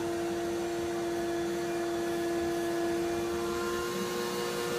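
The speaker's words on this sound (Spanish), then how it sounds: "¿quién dijo que la aspiradora no servía como peine?" A vacuum cleaner runs continuously while being used as a hair comb, producing a steady, loud motor drone with a strong constant hum and an even, unbroken whoosh of airflow throughout.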